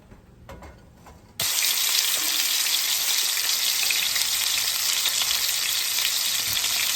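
After a quiet moment, a loud steady sizzle of oil frying in a hot pan for shish kebab bursts in and continues hissing evenly.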